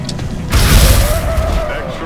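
Rapid fire shots from the video game XCOM burst out loud and close about half a second in, a dense booming volley that decays into a sustained rumble with a faint tone ringing through.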